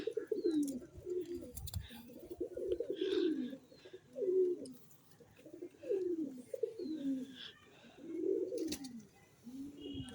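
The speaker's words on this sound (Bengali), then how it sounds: "এই যে আমাদের কবুতর ঘরটা" A pigeon house is full of steady, overlapping cooing from several birds, rolling in repeated low phrases close by, with faint higher chirps above.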